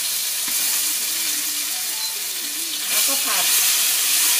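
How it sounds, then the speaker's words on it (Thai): Chili, garlic and shrimp paste stir-fried in a pan give off a steady sizzling hiss, with faint scraping from stirring and a brief spoken word over the sound. "ผัดเครื่องที่เราเตรียมไว้ กะปิให้หอมสักหน่อย"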